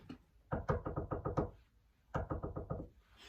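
A fearful knock on a door: a quick run of about seven raps, a short pause, then five more, fairly close and crisp with no voices.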